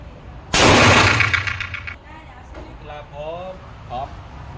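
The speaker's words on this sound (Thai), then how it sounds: "เดี๋ยวจะมาลองยิงกันคนละนัดครับ 357 นะครับ" A .357 revolver with a 4-inch barrel and old ammunition fires a single loud, sharp shot that rings out and decays over about a second. Voices talk afterward.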